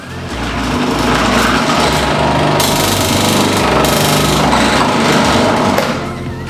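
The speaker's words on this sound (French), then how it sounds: "on va commencer par la centrifugeuse et on va extraire le jus de quelques carottes" A centrifugal juicer grinds carrots into juice with a loud, harsh motor whine and rough rattling chatter as the pieces are pushed through, running steadily for several seconds before easing off, with no talking.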